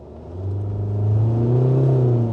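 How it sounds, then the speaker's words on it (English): A 2022 SsangYong Rexton's engine pulls from a standstill at full throttle, a loud rising drone with climbing harmonics that builds steadily and holds strong through the run, heard from inside the cabin. "Very noisy engine."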